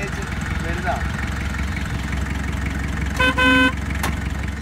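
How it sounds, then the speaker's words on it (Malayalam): A Mahindra 4x4 jeep engine idles steadily at close range, a constant low rumble throughout, with two short horn toots near the end. "എൻജിൻ സൗണ്ട് എല്ലാം വളരെ സുന്ദരമാണ്."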